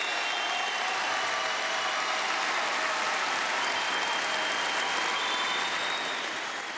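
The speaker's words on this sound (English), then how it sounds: "A well-deserved round of applause for the seniors" A home crowd at a Rutgers basketball season finale gives a sustained round of applause for the seniors, a dense, even wash of clapping and cheering that holds steady and loud from start to finish.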